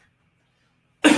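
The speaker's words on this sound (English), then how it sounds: "Bit of a cough." A single sharp cough from a man bursts out after a second of near silence, close and loud, with a rough throaty tail.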